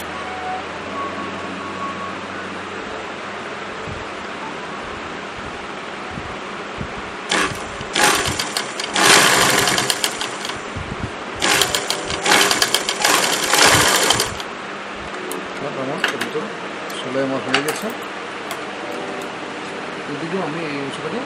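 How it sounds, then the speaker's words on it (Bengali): A sewing machine stitches a cotton face mask with a filter pocket, its motor running in loud bursts of rapid stitching between quieter pauses, close to the listener over a steady background hum. "সেমভাবে আমি এই দুটো সেলাই করে নেব।"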